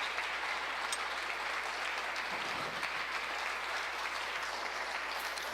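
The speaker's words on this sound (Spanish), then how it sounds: "Dale un fuerte aplauso." A church congregation gives a strong, even round of applause, a dense continuous patter of many hands that holds at a steady level throughout.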